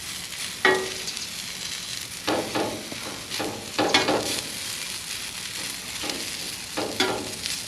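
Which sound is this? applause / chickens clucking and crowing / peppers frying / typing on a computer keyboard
peppers frying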